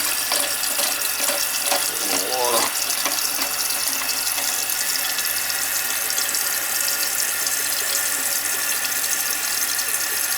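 Water pours steadily into a toilet that is overflowing onto the floor, giving a loud continuous rushing gush with no break for the full length.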